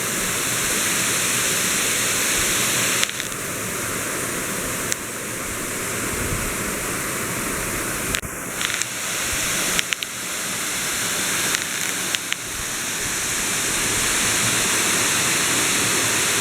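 Kor Luang waterfall in Thailand pouring steadily, a loud continuous rushing hiss of falling water that fills the whole span with only faint brief disturbances.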